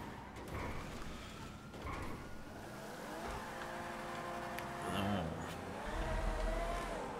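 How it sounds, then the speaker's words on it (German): Cars moving through road traffic in GTA Online, engines droning and revving at moderate distance with a passing vehicle and faint tire noise, steady throughout, with people talking over it. "Oh, Straßenverkehr."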